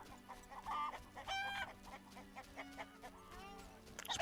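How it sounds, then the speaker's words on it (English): Chickens cluck in the video game The Witcher: Enhanced Edition Director's Cut, several close, repeated clucks and squawks over a farmyard ambience with low background music. "Let's play with the chickens."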